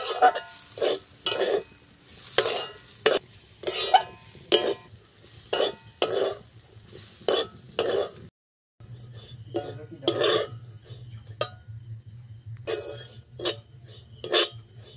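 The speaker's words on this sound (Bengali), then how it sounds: "নাড়তে থাকবো অনবরত, একটুও কিন্তু নাড়া থামাবো না" Dry coconut powder being stirred continuously in a pan over low heat, a steady run of scraping strokes in short bursts, close and clear, with a brief pause before stirring resumes.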